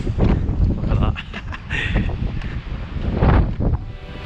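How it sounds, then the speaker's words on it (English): Strong wind buffeting the microphone at the end of a pier in Iceland, loud rumbling gusts that rise and fall throughout, with rustling over the top. "To be fair, this shows you how windy it is."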